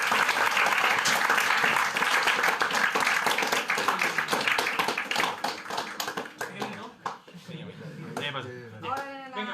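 A school audience at a British High School presentation gives a loud, sustained round of applause with dense overlapping claps, thinning out as voices emerge near the end.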